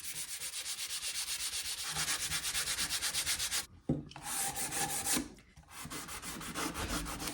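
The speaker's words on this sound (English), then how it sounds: "So we're gonna sand it just with a very, very light, because I really just wanna scruff it up." Steady rhythmic light hand sanding on an old wooden jewelry box, quick back-and-forth rasping strokes, close and continuous, with a couple of brief pauses.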